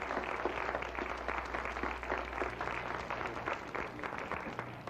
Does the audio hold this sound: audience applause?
yes